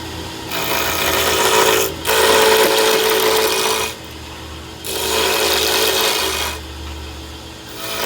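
A sapele mahogany pen blank with glued brass sleeves turns on a lathe as a roughing gouge rasps against the square wood, a close, loud scraping in repeated passes broken by brief pauses over the lathe's steady hum.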